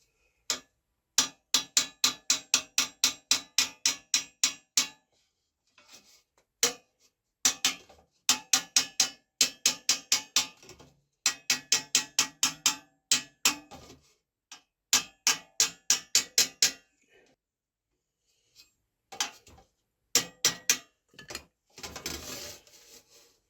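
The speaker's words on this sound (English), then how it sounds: "Let's start with the vinyl mallet. Remember, the goal is to get the dent right on to the steel mandrel." A vinyl mallet taps dents out of soft brass on a 1957 Elkhart by Buescher instrument held over a steel mandrel, sharp close taps in fast regular bursts of eight to twelve strikes separated by brief pauses, with no talking.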